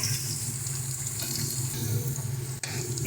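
Beans, carrot and cashews frying for fried rice give a loud, steady close sizzle with soft stirring scrapes underneath, ending in a brief sharp tap against the pan.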